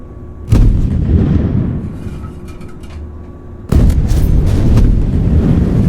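Tank cannon fire from a T-64K in a Roblox tank game: two loud, close booming shots, one near the start and another past the middle, each leaving a long rumbling tail.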